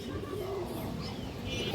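Pigeons coo softly at a pigeon sale, with a low, steady murmur of cooing and faint chirps over a busy background.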